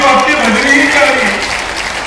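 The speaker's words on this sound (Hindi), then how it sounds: "जरा जोरदार ताली तो आपकी बजनी ही चाहिए।" A large crowd at a stadium rally for the inauguration of development projects in Mahagama, Godda, claps loudly and continuously, with raised voices mixed into the din.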